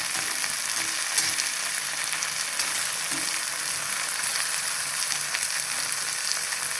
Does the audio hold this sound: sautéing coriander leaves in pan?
yes